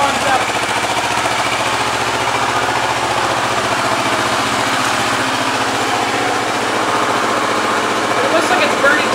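A car engine idles steadily while warming up during a backyard oil change, a constant rough mechanical drone with rattly vibration held at an even, fairly loud level throughout.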